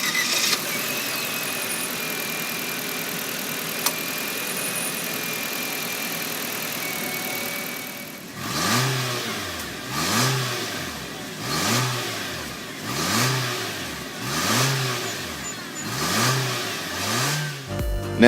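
A 2018 Nissan Kicks four-cylinder engine idles steadily, then revs repeatedly, with several rising-and-falling bursts of acceleration in a regular rhythm.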